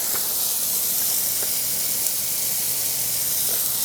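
Wheel cleaner is sprayed onto a wheel of a VW T6.1 Transporter camper van in a steady, loud, close hiss that runs the full length without pause.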